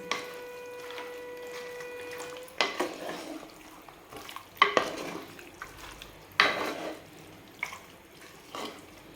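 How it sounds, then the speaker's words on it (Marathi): Mutton stirred in a pot with salt and turmeric: a steady tone for the first couple of seconds, then several loud, close scraping and clattering bursts of a spoon against the pot, with quieter shuffling between them. "नंतर हे आपण छान हलवून घेऊ याला हळद मिठामध्येच"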